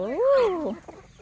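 A single chicken eating on a small farm gives one loud, close, rising-and-falling cluck, followed by a few softer clucking sounds.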